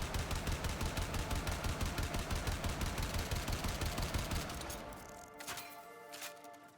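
Argonak automatic rifle from the Warframe video game firing a rapid, steady stream of shots for about five seconds, then stopping. A few louder isolated clicks and impacts follow.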